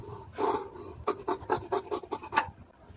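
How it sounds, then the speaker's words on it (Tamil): Scissors cutting through blouse lining fabric, a brief rasp followed by a quick series of short, crisp snips up close, with no talking. "இப்போ இதை அப்படியே கட் பண்ணி எடுத்துருவோம்"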